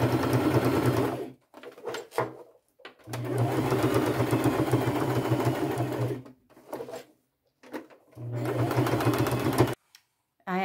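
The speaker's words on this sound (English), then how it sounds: "I'm using a fairly small straight stitch, and I'm just going to go all the way around the bag." A sewing machine runs a small straight stitch around the edge of a fabric bag in three sustained close bursts of steady whirring, separated by short pauses with faint handling noises.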